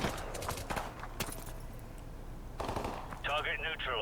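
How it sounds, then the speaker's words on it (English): Gunfire in Call of Duty Modern Warfare Remastered as an SAS soldier opens fire on enemies inside a building: sharp, loud shots in an irregular burst near the start, then another flurry later, with a whistling whine near the end. "Gaz sees some enemy in a building,"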